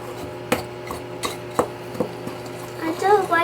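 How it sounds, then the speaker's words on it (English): A whisk stirring dry cake ingredients in a bowl gives a few sharp clinks and soft scraping taps against the bowl at an uneven pace, close and fairly quiet over a low background hum. "I'm just going to take my whisk here. Yeah. And I'm just going to stir this together until it is combined."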